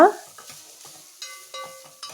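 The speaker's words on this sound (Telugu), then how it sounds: "ఆయిల్ వేసుకొని పోపు దినుసులు వేసుకొని అవి చిట్లిన తర్వాత" Spices crackle and pop in hot oil with scattered sharp bursts, a few clinks of a utensil against the pan ringing out near the end.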